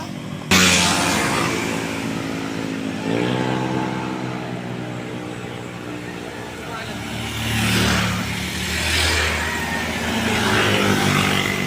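Motorcycles roar past one after another on Marilaque highway in fog, engines rising in pitch and fading, with crowd noise and voices underneath the loud passes.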